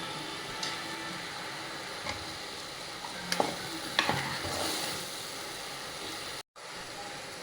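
Chicken curry ingredients and potatoes being sautéed in a pan for Tamil chicken kuzhambu: a steady frying sizzle broken by scraping stir strokes, heard up close.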